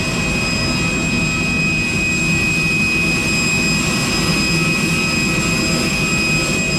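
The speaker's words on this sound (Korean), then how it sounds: "오늘은 에어버스 320이라 CFM 엔진이에요." An Airbus A320 with CFM jet engines produces a constant, loud drone with a thin high whine over it. The sound stays unchanged throughout and no one speaks.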